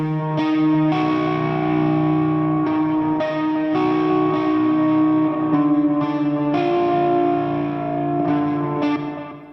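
Heavily distorted metal guitar chords through an STLTones Bliss amp model with a Lasse Lammert boost, dissonant chords ringing loud and sustained with short gaps between strums, no talking.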